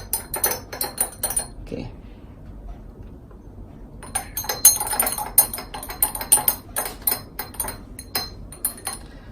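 Water samples being stirred in a glass to mix them, giving a rapid series of light clinks and taps, a pause, then a denser run of close, bright clinking strokes.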